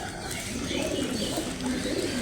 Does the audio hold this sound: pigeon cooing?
yes